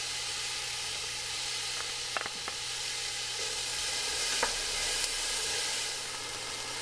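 Chopped onions and garlic sizzle steadily in heated oil in a home kitchen, an even close hiss with a few faint clicks of utensils against the pan, continuing alone without voices.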